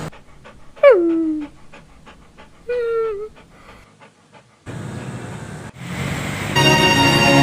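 Dogs pant and whimper close by, short rhythmic breaths with a couple of rising whines, followed by louder broadband noise from something passing.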